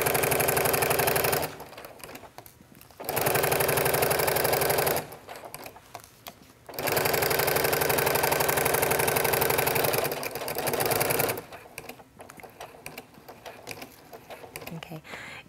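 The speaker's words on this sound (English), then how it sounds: "If you see when you're sewing with the walking foot, it's very easy." A sewing machine fitted with a walking foot stitches fabric around a curve in loud, steady runs. The runs stop and restart several times, and the quieter gaps between them carry faint handling noises.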